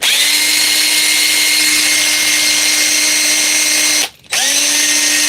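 A DeWalt drill running at speed 3 gives a loud, steady, high-pitched whine close by, cuts out briefly near the end and then spins back up.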